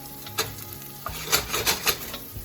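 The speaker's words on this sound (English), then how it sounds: "Okay, so that's good and sizzling." Bacon and corn sizzle in a pan with a soft, steady crackle. Louder scraping and stirring clatter comes in bursts over it. No voices.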